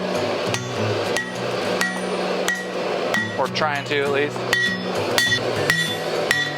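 Steady hand-hammer blows ring out on a forged medieval spike axe, sharp metallic strikes repeating about every half second, close and loud, with someone talking between and over the tapping.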